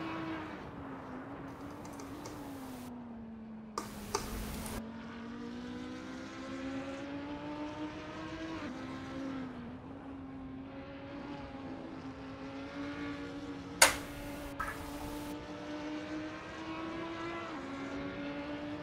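Audi race car engine in a sim racing game, heard onboard at Mugello heading into turn 1 braking: a steady droning engine note with clear harmonics that rises and falls through gear changes, with a few brief clicks and bursts.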